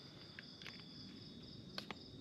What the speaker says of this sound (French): Il y a des insectes de toutes les formes